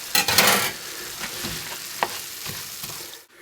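Garlic hits a hot pan for an Algerian borek filling, bursting into a loud sizzle that settles into steady frying crackle, with a few stirring scrapes toward the end.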